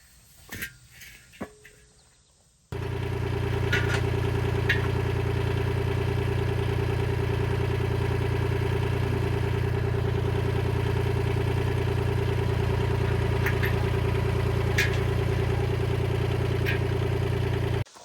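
A tractor engine, used with a forklift attachment to lift a 30-gallon cast iron pot, starts after a few seconds of faint clatter and then idles steadily with a loud, even, close drone, brief clanks on top.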